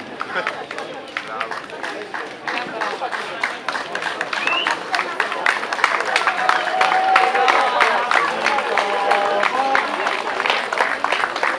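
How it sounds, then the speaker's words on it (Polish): Steady applause from the crowd at a RockRun 2016 half-marathon award ceremony, sustained clapping that builds slightly toward the middle, while a voice speaks over it through a loudspeaker. "Gratulujemy oklaski."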